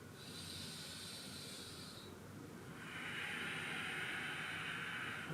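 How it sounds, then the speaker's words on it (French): Slow, calm yoga breaths, a long soft airy exhale followed by a stronger, steady hissing breath through the nose, close and quiet with no talking. "Encore 2 respirations."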